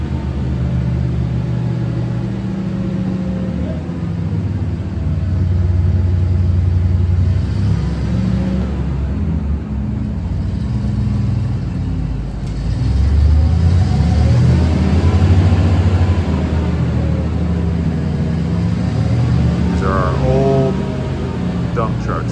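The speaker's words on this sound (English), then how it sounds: "I think they're late 70s dump trucks." A late-1970s dump truck dumps a load of dirt, with a loud close engine rumbling and revving under a heavy, drawn-out pour of material and a voice speaking over it.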